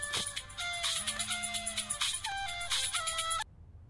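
A phone's melodic electronic ringtone plays a short repeating tune of clear tones, fairly quiet, then stops abruptly.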